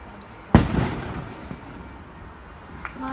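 A bomb firecracker goes off during clashes between Lecce and Brindisi football fans, a single sharp, loud outdoor blast that echoes and rumbles away, followed by faint distant pops and crowd noise.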